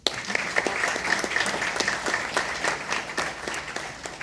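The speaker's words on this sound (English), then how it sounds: "And one more round of applause for our seniors of the month" At a school board meeting, an audience applauds honored seniors of the month with dense, steady clapping that carries on at full strength for several seconds, a few individual claps standing out near the front.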